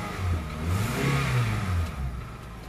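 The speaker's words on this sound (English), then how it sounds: "This engine sounds good when revved." A 2003 Honda CR-V engine with 136,000 miles revs up and down a couple of times, a rising and falling growl heard fairly close.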